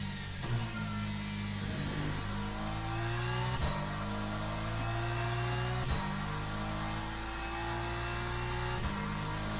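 Race car engine in the sim racing game Le Mans Ultimate, held under throttle with a steady, loud drone, rising in pitch and dropping at several gear changes, alone without talk.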